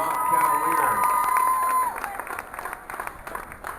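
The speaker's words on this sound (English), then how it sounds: "How about a consolation round of applause for Lawton Cavalier?" Rodeo spectators clap and cheer for a tie-down roping contestant, a brief burst of applause with a few whoops alongside a steady tone, fading after about two seconds into scattered claps.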